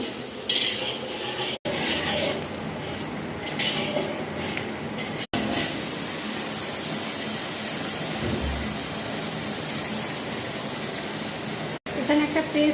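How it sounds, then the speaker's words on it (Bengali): Chopped raw onions with bay leaf fry in hot oil in a pot for mutton kosha, giving a steady, fairly loud sizzle with stirring and utensil clatter throughout, broken by a few brief gaps. "তেলে ভাজা হচ্ছে"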